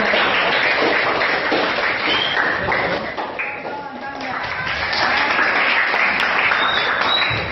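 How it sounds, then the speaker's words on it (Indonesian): Sustained group applause fills the whole stretch, a dense, steady wash of clapping with a brief dip midway and some voices mixed in. "Tepuk tangan buat kelompoknya Bijak dari"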